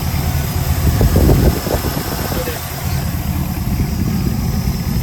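A truck engine idles with a low, steady rumble close by, and a brief louder surge near the start as people talk over it.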